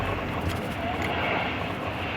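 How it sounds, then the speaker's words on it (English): A steady, broad engine roar of an airplane passing overhead, continuous and moderately loud throughout, with no distinct talk. "I'm sure you're hearing the airplanes right now."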